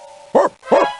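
A dog in the ClueFinders video game gives two quick, close barks about a third of a second apart over a faint steady background tone.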